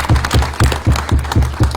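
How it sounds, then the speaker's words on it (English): Audience at a gubernatorial signing of a tribal-state gaming compact claps in a steady, evenly spaced rhythm, loud and close, like a rhythmic round of applause. "Give them a round of applause."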